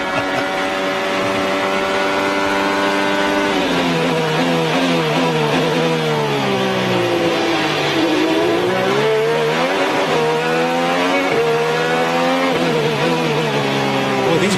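Graham Rahal's IndyCar heard onboard at the 2013 Toronto street race, a loud, close engine screaming through gears with rising and falling revs under braking and acceleration, continuous with no talk.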